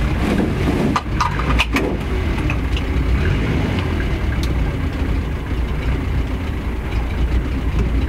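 An engine holds a loud, sustained high-rev drone throughout a flat-out test run, with a few sharp clicks near the start and no speech.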